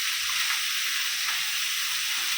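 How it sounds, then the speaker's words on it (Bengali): Greens frying in a pan with lentil dumplings (bori) give a steady, soft, hissing sizzle that stays even and faint throughout, with no talking. "আর এখানে শাক ভাজাটা বসিয়ে দিয়েছি বড়ি দিয়ে।"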